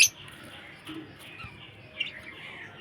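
A budgerigar gives faint, scattered chirps and tweets in a quiet room, with a short sharp chirp at the start and another near the two-second mark.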